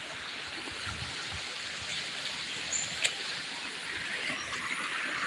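A clear-water river in the Philippines rushes steadily outdoors, a broad, even hiss of flowing water that holds a constant level throughout, with a faint click near the middle.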